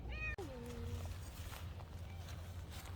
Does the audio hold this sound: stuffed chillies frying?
no